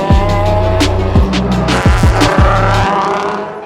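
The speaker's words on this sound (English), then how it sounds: "Driving like a race car like this, it's not difficult" A race car laps a track at speed. Its engine drones loud and steady with repeated rising and falling sweeps as it shifts and passes, and there is no talk.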